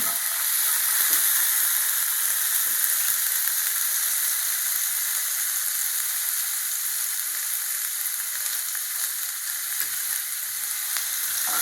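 Ginger garlic paste frying in oil with fennel seeds, a bright continuous sizzle that stays steady and fairly loud from start to finish, with no voices.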